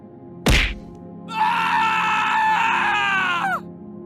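A sharp thwack lands, then a man lets out a long, loud, strained shriek of agony after being punched in the groin, his cry holding for about two seconds before it cuts off.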